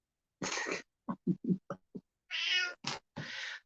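A cat meows several times, loud and close: a long call, a run of short chirpy mews, then two more drawn-out meows, with no talk.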